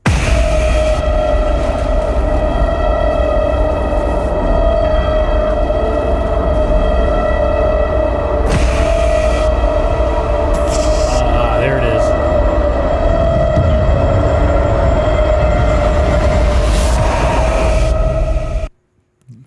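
The booming 'braam' effect from the Deepwater Horizon movie trailer: a loud, sustained, brassy low drone that holds for many seconds before cutting off abruptly, with people talking over it.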